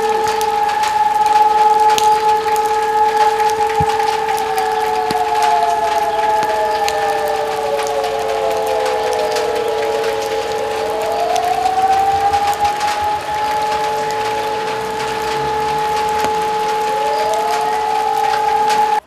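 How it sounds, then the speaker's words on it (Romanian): A civil defense public alarm siren system is started in a Romanian city during a disaster drill, loud sustained tones that wail as the pitch falls and rises again, continuing without pause and with no voices. "a asistat la pornirea sistemului de alarmare"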